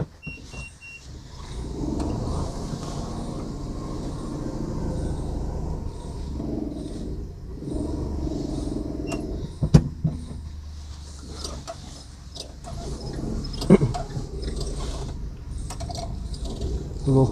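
Renault Kwid hatchback, six years old, pulling away from a stop, its steady engine hum and low road rumble running throughout, with a few sharp mechanical clicks and thumps from the cabin along the way.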